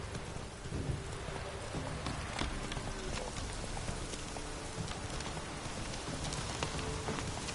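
A horse named Roach gallops in The Witcher 3: Wild Hunt. Steady clip-clop hoofbeats run under a dense, rain-like wash of game ambience with low rumbles, and no talk is heard.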